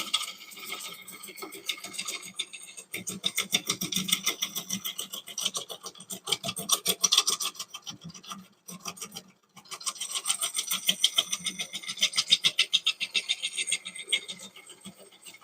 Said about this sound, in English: Kind of using this as a scraper in a sense